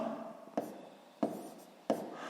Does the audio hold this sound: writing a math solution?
yes